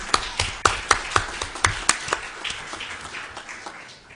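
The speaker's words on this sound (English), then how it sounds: "So let's give them all a nice round of applause, please." Applause at a school board meeting: a few sharp, distinct claps stand out at first, then blend into softer, scattered clapping from a small audience that fades toward the end.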